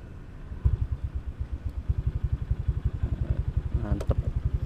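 A Honda Vario motorcycle with a bored-up 160cc engine, heard while riding, pulses in a steady, fast low thrum with regular firing beats that stay close and fairly loud throughout, with a brief clatter near the end.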